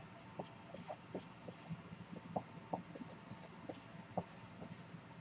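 A pen scratches on a sheet of paper while someone works through a math problem, giving quiet, close, irregular strokes and taps with faint speech in the background.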